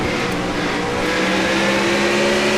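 The Exxon 51 NASCAR stock car roars at steady high revs in an onboard view from a NASCAR SEGA Cup Series race at Watkins Glen, a loud continuous engine drone with no talking.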